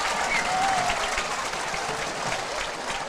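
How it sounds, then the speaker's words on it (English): Broad, sustained crowd applause from stands at a high school football game between Jefferson and Wren, a steady wash of clapping and cheering with a distant whistle near the start. "And he gets a round of applause after he gets hit."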